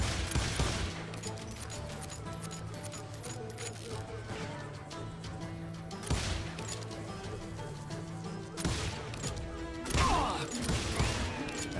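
Gunfire fills a shootout in the western shooter Call of Juarez Gunslinger: repeated sharp cracks and crashing bursts over a steady, droning musical score, loud and continuous for the whole stretch.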